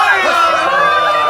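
A traditional Mexican mariachi grito, a loud wavering yell with rising and falling whoops, sounding over lively crowd cheering and shouting throughout.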